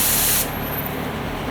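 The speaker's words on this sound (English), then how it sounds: "Okay, let's just spray some kind of pattern." Spray gun spraying black automotive paint: a steady, loud close hiss of compressed air and atomized paint that cuts off abruptly early, leaving a softer continuous background hiss.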